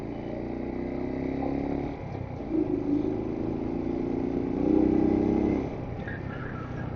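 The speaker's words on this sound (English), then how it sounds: "Going 35 right now just to get you a wind check" Steady wind rush and low motorcycle engine drone heard through a Moman H4R Bluetooth helmet intercom while riding at about 35 mph, continuous and fairly loud, with slight swells, no talking.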